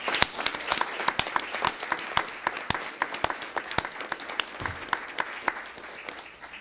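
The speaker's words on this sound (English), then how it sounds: "another round of applause" At a village board meeting, the room applauds pageant winners: crisp, sharp individual claps over a sustained ovation, fairly close and even throughout.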